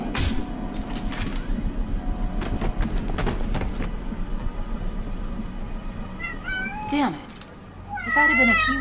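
A cat meows in a video game, several short drawn-out meows near the end after a stretch of clattering game sounds, with a voice talking over parts of it.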